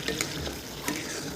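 Chicken cooking in a pan for a spiced curry sizzles steadily up close, with a couple of brief splashy bursts as water is poured in, and no one speaks.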